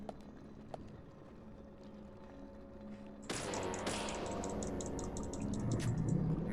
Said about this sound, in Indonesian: Sorry banget ada suara motor kenceng banget ya, itu dari tetangga